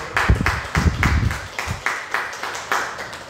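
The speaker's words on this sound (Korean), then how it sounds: "박수로 축하하고" A church congregation clapping in celebration of members' birthdays, a run of roughly ten rhythmic claps, heavier at first, then thinning to sparser single claps.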